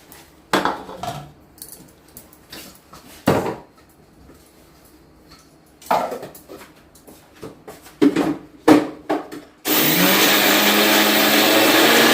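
An electric mixer grinder grinds roasted flaxseeds for a spicy seed powder in a home kitchen. A few clinks and knocks of kitchen utensils come first, then a loud, steady, high whirring grind starts up and runs to the end.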